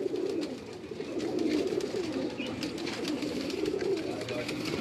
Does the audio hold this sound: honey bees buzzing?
no